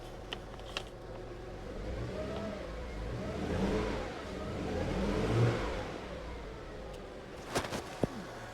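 A 2009 Land Rover LR2 engine runs steadily at idle with a couple of light revs, heard up close and moderately loud, with a few sharp clicks near the end.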